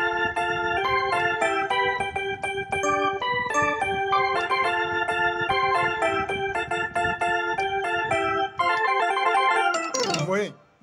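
Keyboard organ layered with a Vénus EP electric piano patch, playing chords and melodic notes steadily for several seconds before a brief swooping pitch bend at the end, with no talking.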